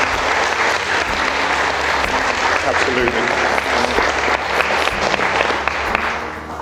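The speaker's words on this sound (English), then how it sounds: "So I think they deserve a round of applause" Loud audience applause at a wedding reception during a speech, steady close clapping throughout, with a brief spoken word from someone nearby.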